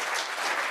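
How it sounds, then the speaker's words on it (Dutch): Short burst of audience applause at a meeting in Rotterdam, steady broadband clapping filling the whole moment without voices. "En u mag klappen hoor"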